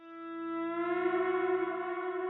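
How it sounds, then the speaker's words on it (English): Electric guitar with reverb added, a sustained chord ringing out with a smooth, echoing tail, steady and fairly loud, alone without voices. "I'm going to add a little more reverb to my guitar."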